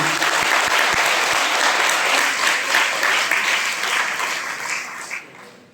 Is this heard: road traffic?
no